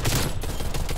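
Hip-fire gunfire in the Black Ops Cold War video game, a rapid burst of shots rattling out loudly and continuously for a moment.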